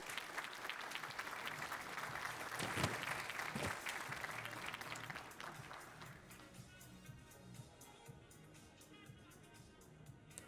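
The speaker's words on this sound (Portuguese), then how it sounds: "E assim, formamos o último bloco de homenageados, a quem pedimos uma salva de palmas." An audience at an award ceremony gives the honorees a round of applause: steady, full clapping that fades to scattered claps, with a low murmur and music underneath.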